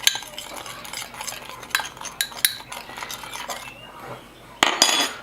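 Spoon scraping and clinking in a bowl while paprika and black pepper are stirred into a dry spice mix, a run of irregular close taps and scrapes with a sharper clatter near the end.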